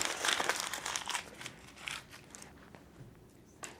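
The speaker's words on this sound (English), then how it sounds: "Now I want you to crumple it up and throw it behind you." Sheet of paper crumpled up by hand during a group ritual, a burst of close crinkling and crunching that thins into sparse, quieter rustles and a final crackle.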